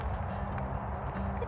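Horse in a winter English countryside setting, with a soft snicker and steady clip-clopping of hooves, faint and close, over a low background murmur.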